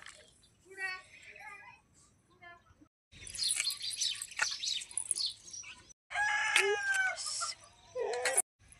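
Chickens cluck and squawk in short, lively bursts while eating fresh maize cobs, fairly close, with quiet gaps between the outbursts.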